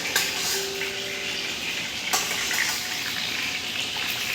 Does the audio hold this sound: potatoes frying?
yes